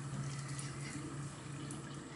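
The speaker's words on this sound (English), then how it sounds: "you're rinsing, swirl it, keep swirling to make sure all of the soapiness is out." A foundation makeup brush being swirled and rinsed in water, producing a faint, steady watery swishing with a low hum beneath, quiet and continuous.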